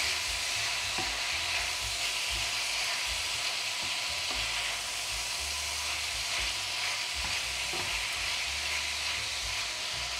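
Three cloves of garlic fry in a pan, giving a steady, dense sizzle with faint stirring clicks underneath, close and even throughout with no voices.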